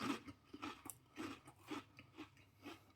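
Close, quiet crunching as someone chews very hard, crunchy Swiss snacks, a steady rhythm of bites repeating about twice a second.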